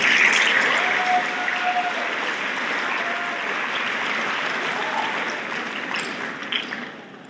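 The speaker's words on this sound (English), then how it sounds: "Let's give them a round of applause." A round of applause at a school spring awards assembly: a broad, steady wash of many hands clapping in a large room, moderately loud, holding evenly and slowly tapering off near the end.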